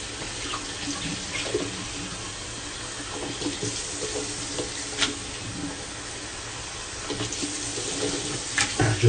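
Tap water running steadily as a shaving soap puck is rinsed out, a continuous close splashing hiss with small irregular spatters throughout.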